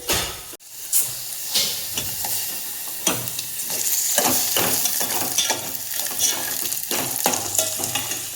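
Onion and garlic fry in a pan, giving a continuous sizzle and hiss with frequent stirring scrapes and clatters at close range, and nobody speaks.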